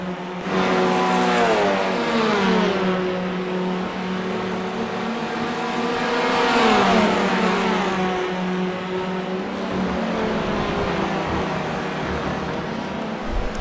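A TCR touring race car in the iRacing sim, its engine droning loud and steady while the pitch climbs and falls through several gear shifts, with a tire scrub and no speech.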